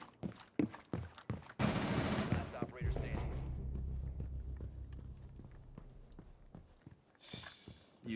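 Rapid bursts of gunfire in Rainbow Six Siege on the Chalet map, with sharp single shots at the start, a dense loud volley, then a lower rumbling stretch with scattered shots and another burst near the end.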